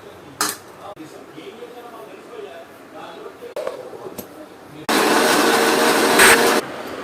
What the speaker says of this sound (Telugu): ఇప్పుడు ఏంటంటే చల్లారాక మిక్సీ పట్టుకోవడం.